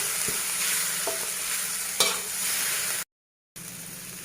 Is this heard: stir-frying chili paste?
yes